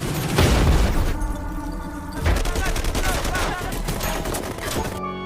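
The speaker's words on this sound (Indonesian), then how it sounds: "kelompok Johnson dan Tiger Sang bertemu lagi dan melakukan baku tembak" Dense, loud gunfire from a film shootout between two gangs, with rapid bursts and booming shots layered together almost without pause.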